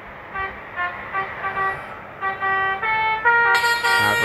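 A Hino RM280 bus horn from a Bus Simulator Indonesia mod sounds in several loud, harmonic toots, short blasts at first and then longer held honks that brighten toward the end.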